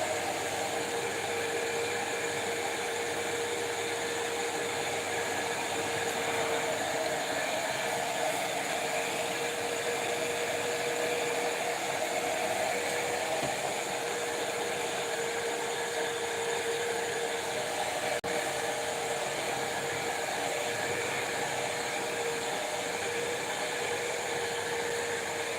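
A hair dryer force drying runs steadily and loudly for the whole stretch, a constant whirring blower hum with no breaks and no voices.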